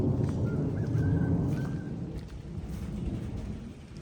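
Rain pouring steadily at a garden house in the countryside, with a loud low rumble of thunder rolling through the first half and dense rainfall continuing alone afterward.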